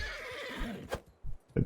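A horse whinnies in a Bannerlord battle, a close, strained neigh followed by a couple of short snorts and hoof thuds.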